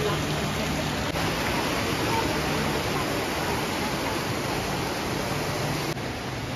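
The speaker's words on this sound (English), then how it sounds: "What is the name of this waterfall?" Leghvtakhevi waterfall in Tbilisi, Georgia, gives off a steady, loud rushing roar of falling water that stays constant and close the whole time, with no talk over it.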